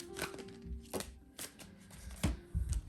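Tarot cards are shuffled and pulled from the deck in soft riffling flicks and slaps, several uneven bursts close by against a quiet room.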